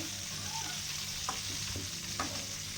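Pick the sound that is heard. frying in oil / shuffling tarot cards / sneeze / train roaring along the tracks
frying in oil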